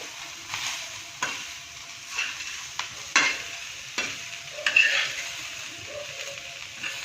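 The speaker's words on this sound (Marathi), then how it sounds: "आता आपण हे घेतलेलं मीठही त्याच्यामध्ये टाकून देऊयात थोडंसं परतूया" Coarse salt stirred and dry-roasted in a pan while making a spicy Maharashtrian kharda chutney, with soft scraping strokes and a faint sizzle recurring every second or so, close and fairly quiet, no voices.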